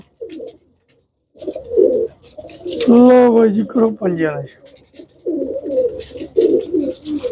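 Pigeons coo in a short, warbling burst from close by, amid soft rustling and handling noises, while someone talks in Punjabi before and after.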